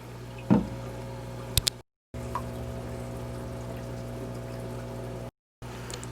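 Water conditioner poured into an aquarium tank dosed for about 15 gallons, a brief splash and trickle early on, then a steady low hum of equipment with short dropouts.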